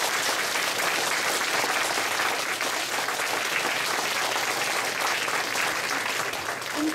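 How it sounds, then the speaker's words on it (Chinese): Warm, sustained applause from an audience greeting the new head of Taiwan's Environmental Protection Administration at his inauguration, a dense even wash of clapping lasting the full stretch with no speech on top. "我们再次以最热烈的掌声来谢谢我们新任的魏署长对我们的勉励。"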